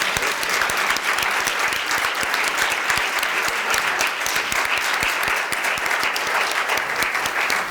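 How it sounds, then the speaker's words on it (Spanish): An audience at a three-minute thesis contest applauds steadily, a dense, even wash of clapping from many hands sustained without pause for several seconds. "que aprovechemos todos a darle un aplauso"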